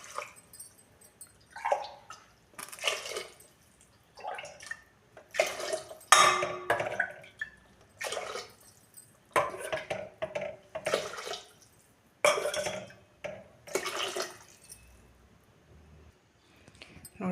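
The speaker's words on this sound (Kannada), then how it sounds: "ಇವಾಗ ನೀರನ್ನು ಹಾಕೊಳಕತ್ತೀನಿ ನೋಡಿ" Water poured into a cooking pot for vegetable pulav comes in a series of separate splashing bursts with clinks of the vessel, each a second or so long, separated by quiet gaps.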